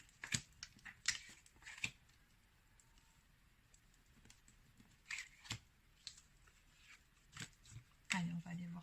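Tarot cards being shuffled and handled, a quiet riffle of scattered card snaps and flicks with pauses between bursts, close by in a calm room, with a brief low thud near the end.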